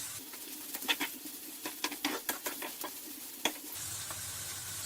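Onions sizzle in a pan while a utensil scrapes and stirs in quick, irregular strokes, close up.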